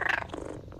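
Cats purring while being petted in Powerwash Simulator, a short, close, rumbling purr with a brief brighter burst at the start, heard alone without talk.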